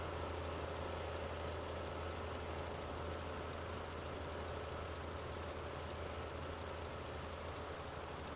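A large T7 tractor in Farming Simulator 19 pulls a plough uphill, its engine a steady, loud, continuous drone with a low rumble and no break or talk.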